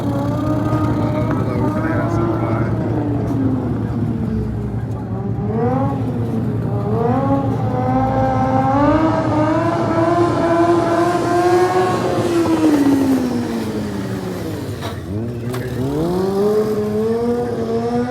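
A Ford Mustang revs hard and repeatedly in an empty warehouse parking lot, its engine pitch climbing and dipping through several loud, sustained pulls as it slides, with a sharp dip and surge near the end.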